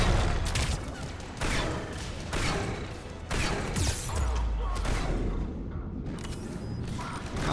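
Shotgun blasts in Mass Effect 3 combat, several loud heavy booms spaced about a second apart over continuous dense battle noise.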